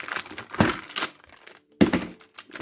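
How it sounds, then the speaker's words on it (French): A box cutter slices into and tears open a cardboard package holding an electronics kit, with crinkling, scraping bursts separated by short pauses and no voices. "je galère un peu à l'ouvrir, donc cutter"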